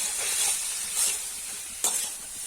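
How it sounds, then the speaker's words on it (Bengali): Cauliflower frying with a spice paste in a pan, producing a soft, steady sizzle with a few brief stirring scrapes, fairly quiet and close with no talk. "ওই মশলাটা দিয়ে এখন ভাজা হচ্ছে কপিটা"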